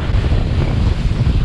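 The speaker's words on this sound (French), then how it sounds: "Le vent est donc irrégulier entre 20 et 35-40 nœuds" Strong, gusty wind of 20 to 40 knots buffeting the microphone at a kitesurfing beach, a steady low roar with surf noise and no voices.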